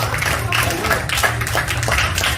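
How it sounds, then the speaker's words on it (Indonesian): An audience at an award ceremony applauds people honoured for winning motorbike, car and Pajero rewards, with brief bursts of clapping over a loud low hum and background noise. "Beri tepuk tangan yang luar biasa Bapak Ibu buat orang-orang yang sangat luar biasa."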